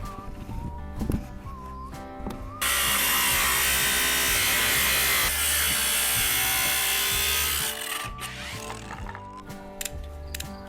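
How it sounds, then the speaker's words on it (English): Cutting out the bottom of a paint bucket: a harsh, steady, close cutting noise runs for about five seconds in the middle, with quieter handling and scraping sounds before and after. "With the second paint bucket, I will also mark and cut out the bottom in the same way."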